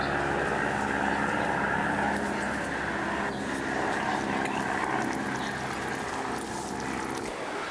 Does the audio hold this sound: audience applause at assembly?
no